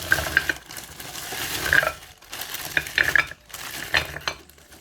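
Frozen homemade cheese balls rattled and clinking hard against each other like small stones, in several bursts of bright clicks and scrapes separated by short pauses, heard up close with no talk.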